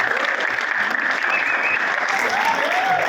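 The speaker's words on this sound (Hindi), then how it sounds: "जोरदार ताली चाहूंगा इस गीत के लिए।" Sustained applause from an audience in praise of a Hindi song recited at a speech event, dense and steady clapping that fills the whole stretch without pause.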